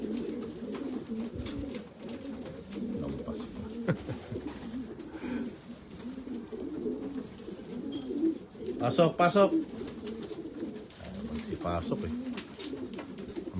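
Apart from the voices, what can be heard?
racing pigeons cooing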